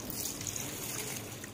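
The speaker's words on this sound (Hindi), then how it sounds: "उसके लिए हम यहाँ पर 3 गिलास पानी डालेंगे।" Water pours steadily into a pot while degi pulao is being prepared, a continuous trickling splash heard close up for a short stretch with no talk over it.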